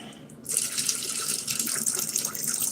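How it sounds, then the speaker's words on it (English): Excess water pours steadily out of a container during copper pipe soldering work in a wall, a continuous splashing gush that starts abruptly and runs loud and close for a couple of seconds. "Pouring out the excess water"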